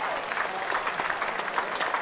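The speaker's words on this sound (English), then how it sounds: "Crowd appreciating that one." Applause and crowd noise roll steadily through a cricket ground at a Glamorgan vs Kent Spitfires Twenty20 Vitality Blast match after a great diving stop on the boundary, sustained clapping with a faint murmur of voices, no single clap standing out.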